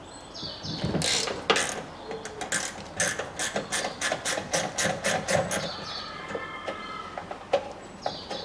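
A ratchet wrench clicking rhythmically as a lower bolt is unscrewed on a 2004 Volkswagen Touareg during a front right part replacement, a regular series of close metallic ratchet clicks with faint creaks and no talking.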